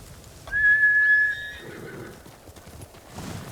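A horse whinnies loudly in one high, wavering call, followed by a few soft hoofbeats on a quiet background, in the video game Ghost of Tsushima.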